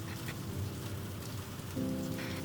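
Steady soothing rain falls on a surface, a constant dense patter with a low hum underneath that shifts pitch slightly partway through, no voices present.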